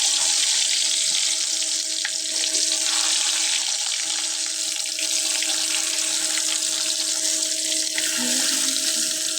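Fish fries in hot oil, a loud continuous sizzling hiss that stays steady and close throughout, with no voices.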